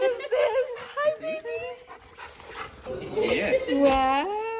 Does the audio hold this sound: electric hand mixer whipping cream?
no